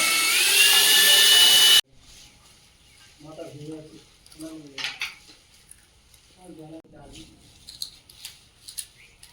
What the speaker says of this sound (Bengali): একজন দাদা ভাই দেয়ালগুলো ড্রিল দিয়ে ছিদ্র করে দিচ্ছে